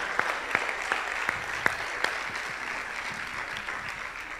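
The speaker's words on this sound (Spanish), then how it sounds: "Demos un aplauso al Señor" A church congregation applauds during a Sunday service, a steady wash of many hands clapping together with a few sharper claps standing out near the start.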